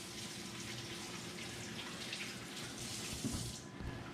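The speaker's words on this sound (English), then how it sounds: "Give my hands a quick rinse." Water runs steadily from a kitchen tap as hands are rinsed under it, a constant close splashing hiss.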